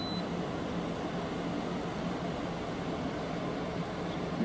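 A window air conditioner runs on its high fan setting, a constant dense rush of airflow noise with an underlying hum that holds steady throughout, close and with nothing else heard.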